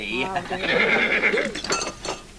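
A horse neighs in a comedy scene, a drawn-out whinny heard close and clear, with people talking around it.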